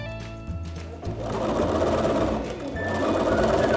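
A sewing machine stitches a seam all the way around a dress, starting up and then running in a loud, steady, close mechanical whir with a rapid needle rhythm.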